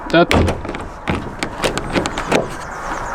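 The frozen back door of a Peugeot Boxer van is tugged at and knocked, giving a loud close clunk followed by scattered thumps, rattles and handle clicks as it refuses to open.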